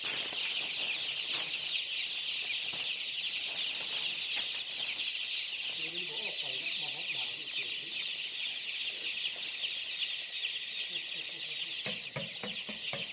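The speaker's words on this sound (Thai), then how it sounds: "ผมให้อาหารไก่กินน้ำกินอาหารเลยดี" Chickens cluck softly while being given feed and water in cool weather, their calls low and intermittent beneath a steady, loud high-pitched hiss of insects or background noise that persists throughout.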